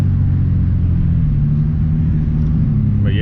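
A turbocharged Nissan 370Z engine pulling hard on a dyno, a loud, dense, steady roar throughout that rises briefly in pitch right at the end.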